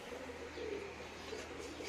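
Soft, low cooing of pigeons repeats gently over a faint steady background hum, quiet and close.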